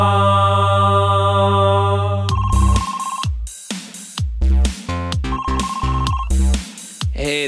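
A telephone ringtone plays loud and clear: a sustained electronic tone, then a bright rhythmic melodic jingle with punchy repeated beats and short gaps.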